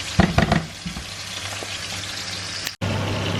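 A pan of sauce with oregano bubbles and sizzles steadily at close range, with a few louder pops and stirring sounds early on and a brief cut before the sizzle resumes.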